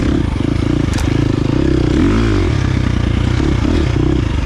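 Engine of a 2023 KTM 350 XC-F dirt bike pulling hard under heavy throttle, a loud, continuous buzzing roar that rises and falls in pitch with a rattly clatter, close by.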